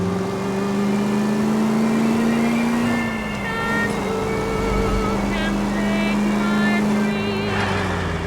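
A car driven in L.A. Noire hums under steady engine drone, pitch rising then dropping as it shifts, with faint whirring and clicks around it and people talking over the motor.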